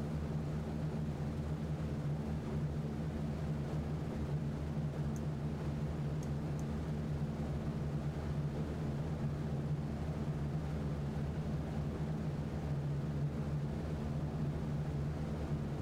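The engines of a B-17 Flying Fortress bomber in a flight game drone steadily through a takeoff run, a constant low, even roar with broadband hiss and no break for the whole stretch.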